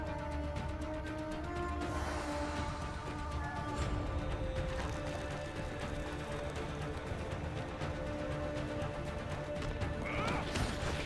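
In The Witcher video game, a horse whinnies and clip-clops through its hooves amid game sound effects and music, with faint talk running underneath.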